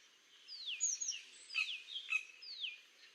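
Indian yellow tit calling in a Western Ghats hill forest: a series of clear, high, sweeping whistled notes and sharp chirps, fairly close, repeated in short phrases over a quiet background.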